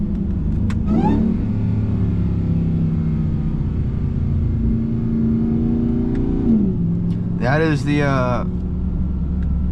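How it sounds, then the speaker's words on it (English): A Ram TRX with a B Woody intake cruises with a deep steady engine rumble heard from the cab, then downshifts with a quick rising rev. Someone talks briefly over it. "your TRX will not sound like that on a downshift"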